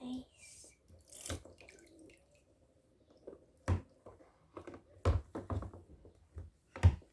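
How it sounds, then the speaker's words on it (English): Water from a shower or tap splashing while soap is rinsed off a face, intermittent bursts of splashing and dripping separated by quiet gaps, close and fairly soft. "just get some water, some water, wash some of the soap away from my face"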